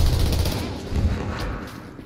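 Dense, sustained gunfire from the video game The Division during a Clear Sky incursion, with overlapping rapid shots rolling continuously and loudly without a break.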